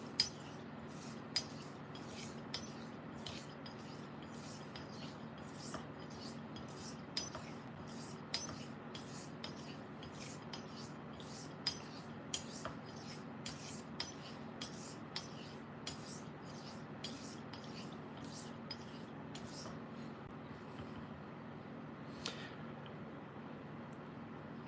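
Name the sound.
straight razor being honed on a sharpening stone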